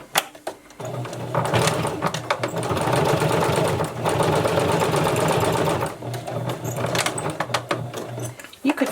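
A sewing machine stitches a fabric face mask in fast, loud motorized bursts, stopping briefly between seams and starting again, with clicks at the pauses.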